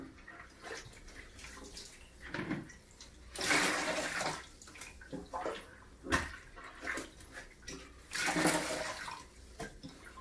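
Sponge squeezing and soaking up water from a toilet bowl, soft wet swishes and slurps repeating in bursts with quieter gaps between, close and fairly faint.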